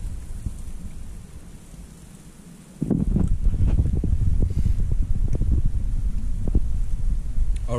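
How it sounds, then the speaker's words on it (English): Strong gusts of a winter snowstorm roar and buffet the microphone at a campsite, a sudden loud burst after a quieter start, with dense rumbling wind noise continuing throughout. "It's really windy outside and it's still snowing"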